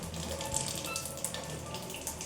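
Water pours steadily from the outlet of a water ioniser installed in a hospital, a soft, continuous splashing stream at low volume with no voices.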